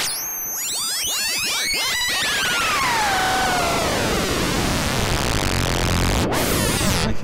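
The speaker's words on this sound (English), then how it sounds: "Nice noisy patch." A noisy Erica Synths Matrix Mixer synthesizer patch with reverb and stereo effect: a bright whooshing wash with descending sweeping tones over a thick static-like hiss, loud and continuous.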